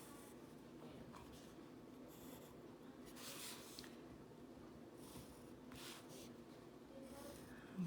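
Geometric shapes are drawn by hand, giving faint, quiet scratchy strokes of a pen or pencil on paper that come in short bursts.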